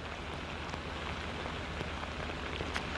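Steady rain falls in Houston during worsening floods, a dense, even hiss of drops on surfaces heard alone at a moderate distance, with occasional slightly louder individual patters.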